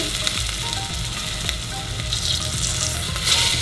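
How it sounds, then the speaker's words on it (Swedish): Overheated oil sizzles loudly and continuously in a pan, hot enough to turn the food black, with a dense crackling hiss that swells slightly near the end. "jag tror oljan är för varm. Den blev helt svart."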